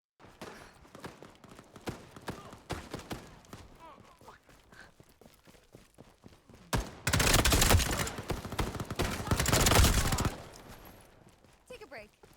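Loud bursts of video game weapon fire, a dense rapid volley standing out after scattered shots and background game sounds, with a voice talking over parts of it.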